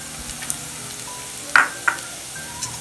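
Onions, curry leaves and green chillies fry in a pan with a soft, faint sizzle. A few sharp clinks of stirring rise above it.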